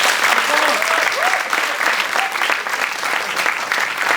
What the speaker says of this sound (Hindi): मेरी तरफ से भी इन कलाकारों के लिए एक बार जोरदार ताली